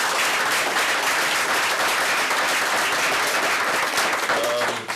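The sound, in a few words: round of applause for Dr. Brown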